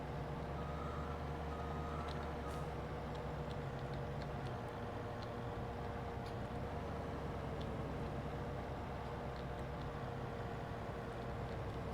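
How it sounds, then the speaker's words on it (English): Steady engine drone of a fast truck driving in Farming Simulator 22, continuous and even throughout, with faint intermittent beeping and clicks over the hum. "So this is a pretty quick truck."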